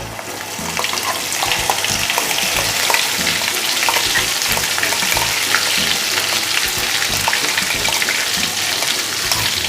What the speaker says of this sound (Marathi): आणि यात आपण हा वाटून घेतलेला मसाला तेलात टाकूया.